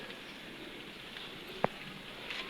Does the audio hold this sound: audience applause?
no